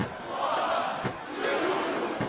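Arena crowd noise from the WWE SmackDown vs. Raw 2007 video game during a women's championship wrestling match, a steady loud roar of cheering with brief swells, no talk over it.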